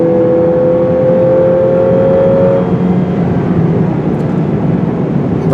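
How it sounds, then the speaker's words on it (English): A 2017 Lexus IS200t turbocharged engine pulls hard, giving a loud, continuous engine roar with a steady tonal whine that fades partway through while the rumble carries on. "for passing power, the turbo's got plenty of grunt"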